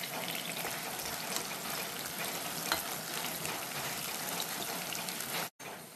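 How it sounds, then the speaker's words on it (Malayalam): Shallots fry in hot oil with a dense, steady, close crackling sizzle that runs unbroken, apart from a brief dropout just before the end. "എണ്ണ നന്നായിട്ട് ചൂടായിട്ടുണ്ട് കേട്ടോ. അതിലേക്ക് നമുക്ക് ഈ ചെറിയുള്ളി ഒന്ന് ഇട്ട് കൊടുക്കാം."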